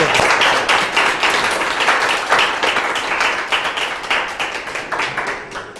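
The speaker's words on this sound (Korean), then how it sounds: "박수 한번 정리해 주시면 부탁드리고" A theater audience at a screening talk with a film director applauds, loud, dense clapping that swells and keeps going steadily, tapering slightly toward the end.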